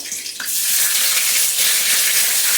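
Cloves, a small cinnamon stick, peppercorns and bay leaf dropped into hot oil, bursting into a loud, close, continuous crackling sizzle after a brief softer start, with no talking.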